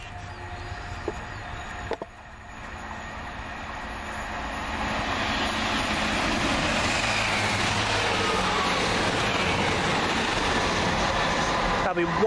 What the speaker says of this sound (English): 165015 working the train to Bicester North from London Marylebone.